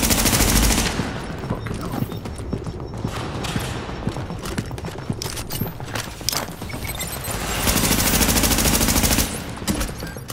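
Sustained gunfire in The Division's Dark Zone: rapid, loud bursts of automatic weapon fire rattle almost continuously, with heavier blasts at the start and near the end and little talking.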